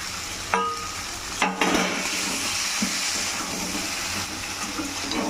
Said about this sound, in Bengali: এবারে ভেজে রাখা ফুলকপিগুলো মধ্যে দিয়ে দেবো।